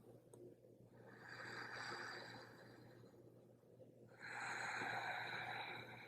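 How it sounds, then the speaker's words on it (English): Ujjayi yoga breathing with the tongue resting at the roof of the mouth: two long, soft, ocean-like hissing breaths, close and quiet, separated by a brief pause and with no talk. "Our tongue is resting at the roof of the mouth, creating an ocean-like sound, and that breath is known as Ujjayi breathing."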